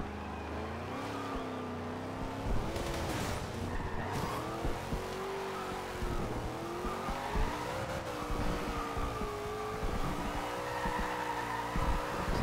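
A Nissan GT-R drifting in Forza Horizon, its engine droning and shifting pitch while the tires squeal and skid continuously across a long slide, loud and close.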